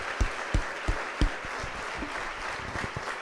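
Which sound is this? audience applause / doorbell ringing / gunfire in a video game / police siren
audience applause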